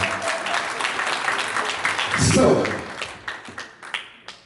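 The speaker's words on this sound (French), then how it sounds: "Est-ce qu'on peut applaudir très très fort" A crowd at a 70th birthday celebration applauds, with brisk clapping rising to a peak and then thinning out, while a voice speaks over it.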